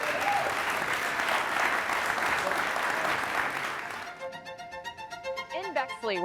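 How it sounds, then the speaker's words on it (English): Audience applause for a city mayor at a community event, steady dense clapping for about four seconds that then fades as a voice begins talking. "Let's give a round of applause to the mayor"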